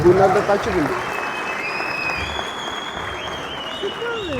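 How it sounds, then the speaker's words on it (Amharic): An audience claps steadily as a woman walks up at an Ethiopian film premiere, with some speech and noise over the applause. "እናንተ አጨብጭቡላት እስኪ ጋር እስክትደርስ"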